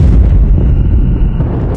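A loud, booming blast in the mobile shooter game Call of Duty Mobile, a deep low-heavy explosion that rumbles close and continuous for nearly two seconds before tailing off, with no talk over it.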